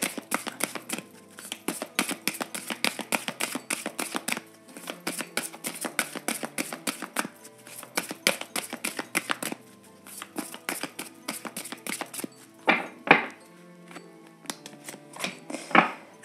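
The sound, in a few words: shuffling oracle cards for a tarot-style reading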